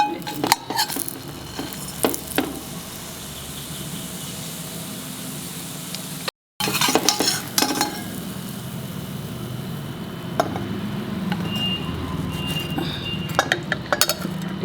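French toast with cinnamon frying in a pan with a little oil, a steady close sizzle broken by clinks and scrapes of a utensil against the pan, with no talking.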